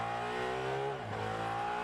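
A car engine revs and accelerates steadily at moderate level, with a slight dip in pitch partway through as it shifts or eases off. No one speaks.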